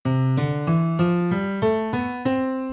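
A rising major scale played note by note on a sustained, organ-like keyboard tone, eight even steps, clear and close with no voices.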